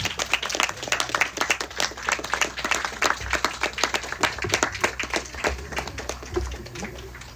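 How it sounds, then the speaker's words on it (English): A seminar audience gives a round of applause: dense, steady clapping from many hands that fills the whole stretch, close and lively, with a few low thumps underneath. "Audience, please do give them a big round of applause."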